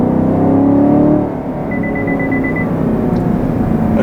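The naturally aspirated GM V8 in a 2020 Chevrolet Camaro 2SS with a 10-speed automatic produces a loud, steady low rumble that eases slightly after a second and then holds an even drone, with a faint tone over it.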